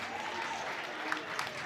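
A happy football crowd at a Burton Albion match against West Bromwich Albion applauds, a dense, steady roar of clapping with a few louder claps poking through.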